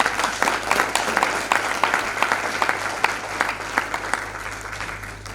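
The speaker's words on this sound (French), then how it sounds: "On peut acclamer la parole de Dieu." A church congregation claps during a Sunday worship service, giving a steady, fairly close round of applause that holds for several seconds, with no voices over it.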